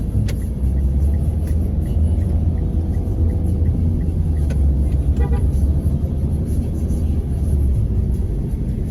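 Heavy road traffic on a trip from Manila to Quezon: a continuous low engine rumble of many vehicles with repeated short horn toots scattered throughout, close and loud.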